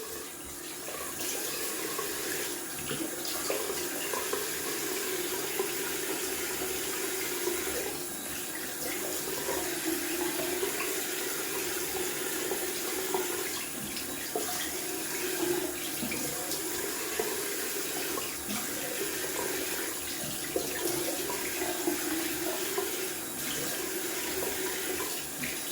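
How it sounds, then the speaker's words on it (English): A bathroom tap runs steadily into a sink for a cold rinse during a wet shave, a close, continuous rushing flow with slight splashing changes and no talking. "Going down for a cold water rinse."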